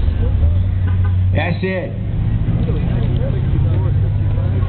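Oldsmobile 442 car pulling in at a car show event, a low steady engine rumble close by throughout, with a brief spoken voice partway through.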